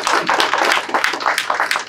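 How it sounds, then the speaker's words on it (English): Audience at a healthcare funding announcement at Bramalea Community Health Centre giving a round of applause, close, brisk clapping from a modest crowd with uneven, individual claps audible. "big round of applause again"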